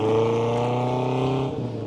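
A noisy vehicle with a loud exhaust drones past at close range, a strong steady engine roar with a slight pitch drop as it moves away near the end.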